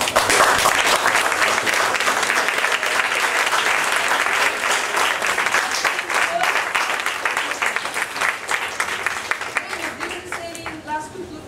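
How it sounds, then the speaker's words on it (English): An audience at a televised press panel show gives a sustained round of applause, dense clapping filling the room and slowly thinning toward the end. "do you want to give a round of applause?"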